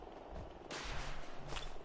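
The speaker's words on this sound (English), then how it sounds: "That's a scary sounding missile launcher." Multi-barrel missile launcher firing in Fallout 4, a dense roaring volley of launches with two sharp bursts standing out over continuous rumbling noise, loud and close.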